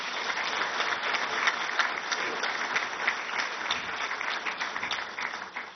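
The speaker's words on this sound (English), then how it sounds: "I'm sure you will agree with me by clapping." Steady applause from an audience at a book launch event, a dense, continuous patter of many hands clapping at moderate volume throughout, with no voices standing out.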